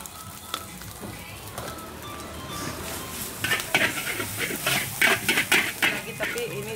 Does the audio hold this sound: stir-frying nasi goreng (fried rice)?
yes